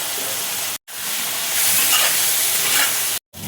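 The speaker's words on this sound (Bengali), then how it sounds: "চিংড়ি মাছ দেখো ভাজা হয়ে গেছে" Prawns frying in a pan, a loud, close, continuous sizzle and hiss with two brief silent cuts.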